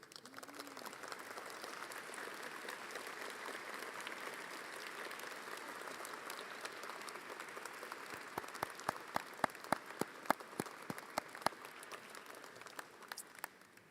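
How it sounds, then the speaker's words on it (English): A graduating audience applauds steadily at the 2022 Oregon State University EECS graduation ceremony, a broad sustained wash of many hands, with a few louder, sharper claps standing out near the end. "please stand and give your supporters a round of applause"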